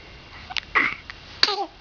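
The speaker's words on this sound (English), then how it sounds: "Oh, sneeze." A small baby makes a quick, soft sneeze among little vocal squeaks and babbling noises, close and fairly quiet.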